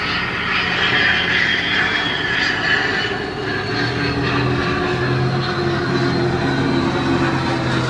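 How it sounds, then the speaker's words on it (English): A jet airplane passes overhead near a flight path, a steady loud broadband roar with a low rumbling drone that holds for the whole stretch, with no talking. "And of course, here comes a plane."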